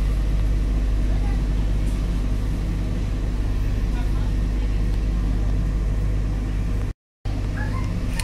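Aboard an Auckland Eastern Line commuter train pulling away, a steady low rumble of motors and rolling wheels fills the cabin, constant and close, with a momentary dropout near the end.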